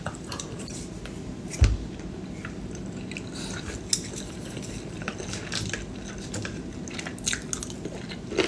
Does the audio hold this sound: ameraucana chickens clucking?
no